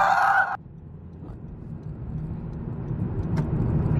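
Steady low engine and road rumble from inside a car being driven to college, continuous and moderately loud after a brief burst of other noise at the start, with no talk.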